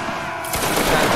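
Musket volley fire from a line of soldiers in the Roblox game Waterloo, a quieter lead-in giving way to a sudden loud, crackling burst of many shots that rolls on and stays dense.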